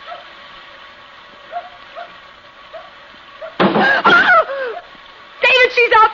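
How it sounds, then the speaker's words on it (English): A little dog barks on a country road at night, a loud burst of several sharp yaps after a quiet stretch of low hum, then a second short volley near the end. "It's a little dog barking."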